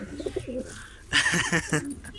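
Soft, low coos from a male smoky crested pigeon come in a few short phrases, fairly close, with a louder burst of chatter and rustle midway through.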